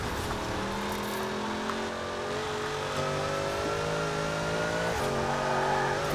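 Upgraded Hot Wheels car with its standard engine driving in Forza Horizon, a steady droning engine note holding and shifting pitch under continuous road noise, loud and close with no talk.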